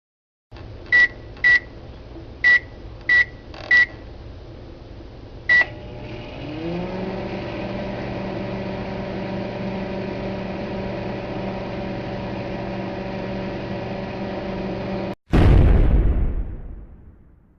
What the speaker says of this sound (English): I'm going to blow up Asian Fantend owned Vian 336 Anti-Dark Bowser 909 Master's Microwave by putting this bomb in his microwave